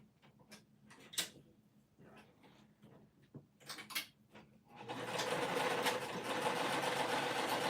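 Sewing machine running at regular stitch length along a shoulder bag pocket, a loud steady whir that starts about two-thirds through after scattered handling clicks and taps.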